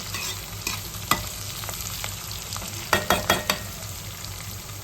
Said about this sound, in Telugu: ఆనియన్స్ మిర్చి జీలకర్ర ఆవాలు శనగలు ఇంకా కరివేపాకు వేసుకొని తాలింపు పెడుతున్నాను